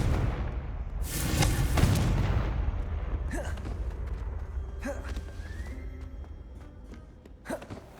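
A Confringo fire spell bursts into an explosion in the video game Hogwarts Legacy. A heavy boom swells in the first seconds, then fades into a rumbling tail with brief, faint voice-like calls and small impacts over it.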